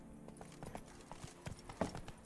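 Horse hooves clip-clop in The Witcher 3: Blood and Wine, a run of soft, fairly steady thuds at moderate distance with faint game ambience around them.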